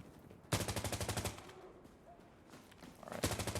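Rapid automatic fire from a 30-round gun in a video game, two loud bursts of evenly spaced shots, the first lasting about a second and the second starting near the end, with a quieter gap between them.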